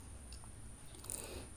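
A mouthful of cooked rice is chewed close to the mic, soft moist squishing and faint crunching in a steady rhythm, quiet and alone.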